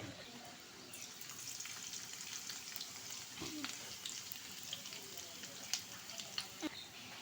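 Garlic and ginger sizzle in hot oil in a pan, a soft, steady frying hiss broken by occasional stirring scrapes and clinks, fairly quiet and close, with no talk.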